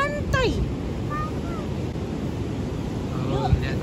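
Surf rolls and washes onto a beach on the Gunung Kidul coast, a steady broad roar under wind buffeting the microphone, with a few faint voices and whistles in the distance.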